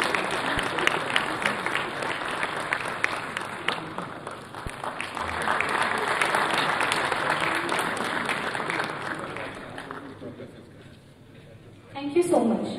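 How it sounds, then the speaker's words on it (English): An audience at the inaugural session of an international conference on contemporary computing and applications gives sustained, dense applause. It fades toward the end, where a voice comes in. "Please give a great round of applause for Professor Radenberger."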